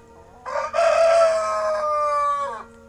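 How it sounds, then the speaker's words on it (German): A young Australorp rooster crows once, a loud, close, drawn-out cock-a-doodle-doo lasting about two seconds with a rising start and tapering end, with no voices. "Das ist der Roadrunner, der Große, der immer so schön kräht"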